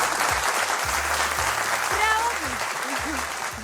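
A studio audience claps steadily at a television quiz show, a dense and sustained burst of close applause, while a voice speaks over it.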